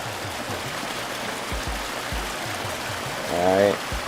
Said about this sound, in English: it sounds like the water falling out of the pipe